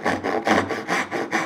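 A hand saw cuts wood for dovetail joints in rapid, even back-and-forth strokes, about six close rasping passes with no talk.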